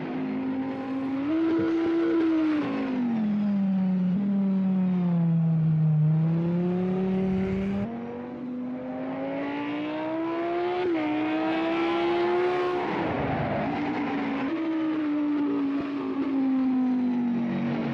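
A race car engine in Project Cars 2 drones and revs steadily, its pitch rising and falling through gear changes as it laps, loud and continuous with no talking.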